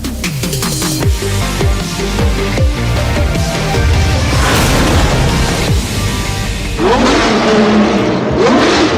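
Porsche 917K Le Mans racing car, Gulf-liveried, its engine revving loudly and close with sharp rising and falling sweeps, pops and a sustained roaring drone.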